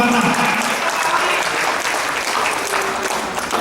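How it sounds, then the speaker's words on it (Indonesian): Audience at a closing ceremony in Batam applauding the mayor, loud sustained clapping from a large crowd, dense and even, fading slightly toward the end. "Kita berikan aplaus dulu buat Wali Kota Batam"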